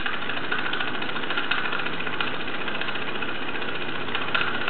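A Bowman M135 stationary engine drives a Doll 839 dynamo, giving a steady, close, even running drone with a faint regular ticking throughout and no voices.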